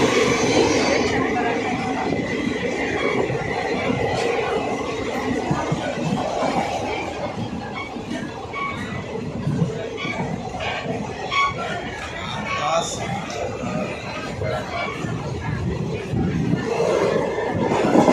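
A passenger train on the Hubballi to Bangalore route, just past Yeshwantpur, rolls steadily with a continuous loud rumble and clatter of wheels and carriages, unbroken throughout, with faint voices in the carriage.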